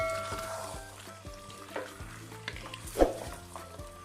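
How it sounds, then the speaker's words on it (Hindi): Green chillies frying with potatoes and aubergine in a pan, a low steady sizzle with repeated scraping stirs and a light clatter of a spoon against the pan. "ये 4 से 5 अदद मैंने सब्ज़ मिर्च डाली हैं, इनको भी हम साथ में भूनेंगे।"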